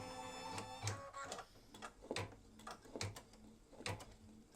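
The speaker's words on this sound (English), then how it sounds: "For the first color stop, it's going to stitch the outline for the positioning of the batting" An embroidery machine stitching a placement outline for batting on a mug rug, a quick, regular rattling tick of the needle with rhythmic mechanical clatter, close and alone.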